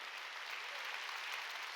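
A church congregation applauds during a Sunday worship service, a steady wash of many hands clapping at moderate distance throughout, without any voices over it.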